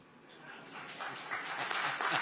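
Audience applause at a live Hindi-language media event, broad clapping that swells gradually and grows louder toward the end, with some voices mixed in.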